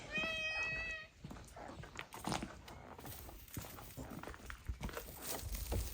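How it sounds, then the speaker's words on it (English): A shop cat named Millie meows in a rapid run of about five bright, close calls, then goes quiet while soft footsteps, rustling and handling noises carry on around a farm building. "We have our little Millie. She's our shop cat"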